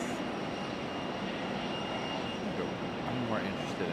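Bombardier CRJ regional jets moving at Raleigh-Durham airport give a steady, broad engine roar and whine that holds evenly throughout, with faint talk underneath.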